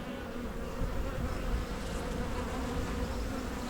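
Honeybees swarm around an open hive during an inspection, making a steady, dense buzz that holds close and even throughout with no talking.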